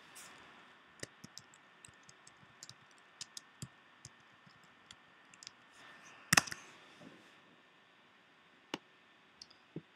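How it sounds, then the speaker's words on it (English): Faint, sparse key clicks from typing text on a computer keyboard while working in CorelDRAW X6. The taps come at an irregular pace over a quiet background, with one louder clatter near the middle. "let's type out our text."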